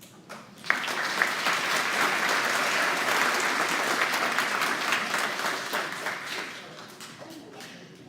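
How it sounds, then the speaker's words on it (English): A crowd applauds steadily, a dense wash of clapping that starts abruptly, holds for several seconds, then thins out toward the end. "one more round of applause for Lily."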